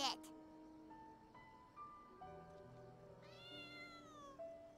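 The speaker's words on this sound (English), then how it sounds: "I heard a cat." A cat in the video game Genshin Impact gives several short meows over a quiet town scene, with sustained tonal game music in the background.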